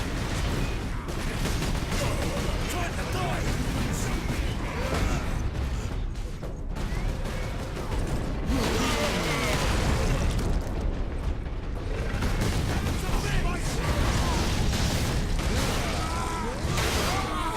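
In the Warhammer 40,000: Space Marine video game, bolter gunfire and exploding shells roar without pause in dense, loud bursts, with thudding blasts and clattering mechanical noise layered through the whole stretch.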